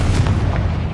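A Confringo spell blast in a Harry Potter video game, one deep, loud boom that rumbles steadily through the whole short moment with no voice.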